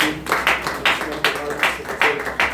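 A church congregation claps in a steady rhythm to acclaim God, about eight evenly spaced beats of massed hands with voices faintly underneath.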